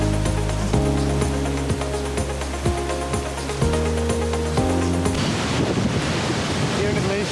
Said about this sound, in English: The water flow is quite heavy